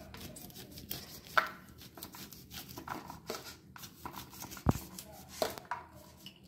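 A knife slices kernels off a husked sweet corn cob for a corn vada batter, giving soft scraping cuts with a few sharper clicks, close and fairly quiet, with no talking.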